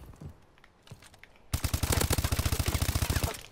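The Battle 27 gun fires a long rapid automatic burst in a video game, loud and steady with evenly spaced punchy shots, after a quieter stretch of scattered distant noises.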